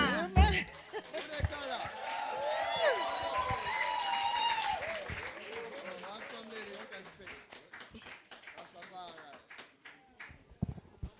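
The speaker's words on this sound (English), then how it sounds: "Give them another round of applause, please." Applause and scattered cheering from the congregation at a memorial mass, loud at the start and gradually tapering off over about eleven seconds, with voices and singing mixed in underneath.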